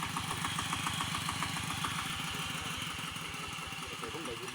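A tractor engine runs steadily with a rhythmic, pulsing mid-low chug, fairly loud and close and continuous throughout, while a voice talks faintly over it.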